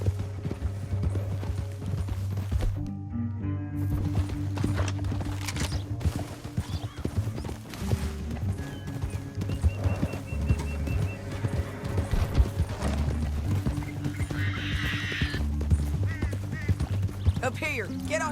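Horses galloping in Red Dead Redemption 2, rhythmic hoofbeats with a neigh and background game score, continuous and fairly loud throughout.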